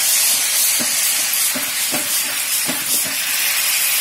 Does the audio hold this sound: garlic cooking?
yes